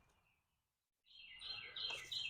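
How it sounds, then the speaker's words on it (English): Birdsong outdoors near a smart bird feeder camera: after a near-silent opening, a faint chirping and twittering chorus rises and carries on steadily, moderately distant, with no talking. "the birds are really singing today"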